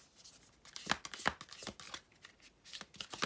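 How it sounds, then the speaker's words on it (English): An oversized Archetypes oracle card deck is shuffled by hand in quick, soft riffling bursts, close and fairly quiet, with no talking. "this deck is kind of big and hard to shuffle"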